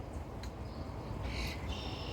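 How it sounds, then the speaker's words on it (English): A few faint, brief bird chirps rise over steady low outdoor rumble, spaced irregularly across a couple of seconds with no talking. "you can see the bird here. That's why there's so much noise."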